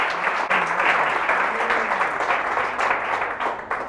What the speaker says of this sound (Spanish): Fuerte ese aplauso al Señor por su amor y su misericordia.